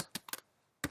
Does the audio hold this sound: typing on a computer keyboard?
yes